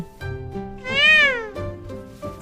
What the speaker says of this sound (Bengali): C for cat, বিড়াল।